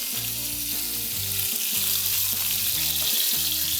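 Food sizzling in a hot pan as sauce is reheated, a loud, even hiss throughout, with background music playing underneath.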